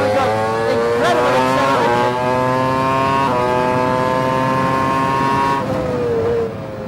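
A Formula One car accelerates hard out of a narrow pit lane, its engine note climbing steeply through the gears, loud and close, before easing off near the end.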